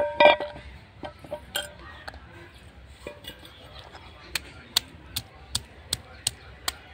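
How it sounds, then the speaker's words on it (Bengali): Raw tamarind with salt and chillies being crushed on a shil-nora grinding stone: irregular knocks at first, then a steady run of sharp stone-on-stone taps, close and fairly quiet. "এভাবে আমি বেটে নেব, হালকা করে এইভাবে ছেঁচে নেব শিলনোড়ায়।"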